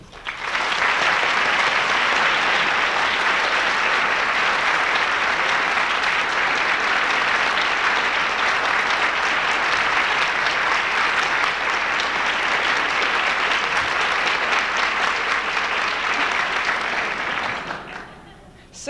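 An audience at an Oregon higher-education lecture on the urban university applauds steadily to welcome Dr. Ramaley, a dense, even roar of clapping lasting nearly twenty seconds before fading out.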